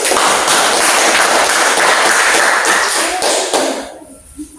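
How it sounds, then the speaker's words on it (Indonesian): Students in a classroom clap together in loud, dense applause that continues steadily, then thins out and stops near the end. "beri tepuk tangan untuk mereka semua"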